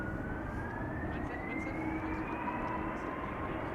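A Delta Airlines jet lined up on the runway at Schiphol Airport, bound for Detroit, spools up its engines: a steady broadband roar with a thin whine slowly climbing in pitch, heard from the runway side.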